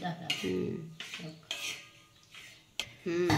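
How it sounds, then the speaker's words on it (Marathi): Grated coconut roasts dry in a metal pan, stirred with a spoon in a few distinct bursts of scraping and clattering, close and fairly quiet with short pauses between strokes. "आता ही भाजलं खोबरं छानपैकी भाजून घ्यायचं ब्राऊन कलर होतं."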